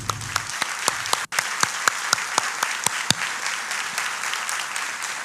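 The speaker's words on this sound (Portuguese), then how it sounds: "Eu acho que a equipe que me ajudou merece palmas." Audience applause from a crowd at a religious talk, a steady wash of clapping with a few sharper individual claps standing out, moderately distant and continuing evenly with no talk over it.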